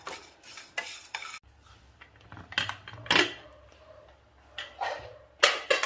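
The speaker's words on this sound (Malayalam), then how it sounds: "അല്പസമയം കൂടെ ഈ പാത്രത്തിലൊന്ന് ഇളക്കാം." Cooked turmeric being stirred in a pot, the spoon scraping and knocking against the metal in several close, uneven bursts with short pauses between, no voices over it.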